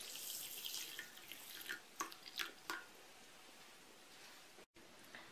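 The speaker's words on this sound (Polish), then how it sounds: "teraz siemię lniane wrzucam do większej miseczki i zalewam gorącą wodą" Hot water poured from above into a larger bowl of flaxseed, a faint trickling splash with a few soft drips and taps in a quiet room, heard alone.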